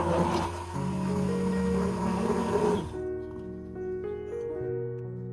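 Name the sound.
blender blending a mixture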